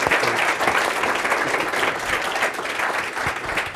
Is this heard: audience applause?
yes